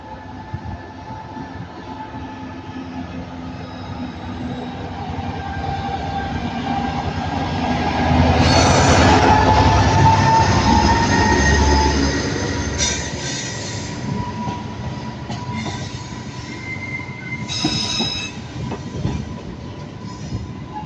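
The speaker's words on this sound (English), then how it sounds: "And departing is 39138, working the 1334 Avanti West Coast service to London" Avanti West Coast train, unit 39138 on the 1334 service to London, departing Manchester Piccadilly station: steady rail rumble and wheel noise swell to a peak then ease, with faint squeals and clanks, no talk.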